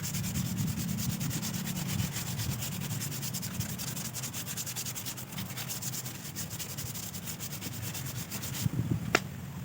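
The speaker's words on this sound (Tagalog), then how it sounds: "nililiha talaga yon para matiyak natin na pag naglapa tayo ng masilya ay kakapit na mabuti" Sandpaper rubs over a fiberglass repair on a cracked car bumper, a continuous close scratchy rasp with a steady back-and-forth grain that ends in a brief knock.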